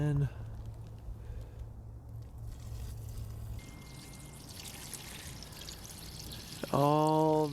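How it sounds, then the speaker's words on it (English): Dirty water pours out of the recovery tank of a Hoover Spotless carpet cleaner in a steady rushing stream, loud and close, then tapers off, with a voice breaking in briefly at the end. "all the nasty water dumped out"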